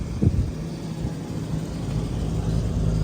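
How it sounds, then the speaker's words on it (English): A 1988 Ford Mustang Foxbody convertible engine idles with a smooth, steady low rumble, heard close and moderately loud after a brief thump at the start. "As you can hear, this car's running. It runs smooth."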